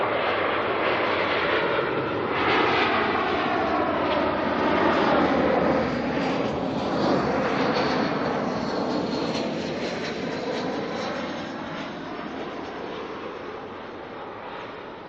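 An Air New Zealand Airbus A320 arrives at Auckland Airport, its engines roaring and whining steadily, swelling mid-way and then slowly fading as the jet passes.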